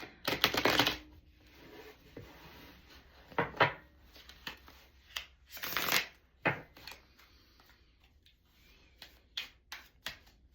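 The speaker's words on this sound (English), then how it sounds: "I'll shuffle one more time." Tarot cards shuffled by hand in a few quick riffled bursts and softer slides, close and fairly loud, separated by quieter handling pauses.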